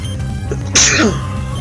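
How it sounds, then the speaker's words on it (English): A single loud, sharp sneeze bursts out close to the microphone, standing out briefly above a steady low background hum. "Sneeze."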